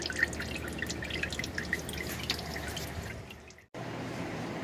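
Engine oil drips from the drain hole of a 2005 Cadillac Escalade ESV 6.0L: soft, irregular droplets tapping into a steady low trickle, fairly quiet, broken by a brief silence near the end.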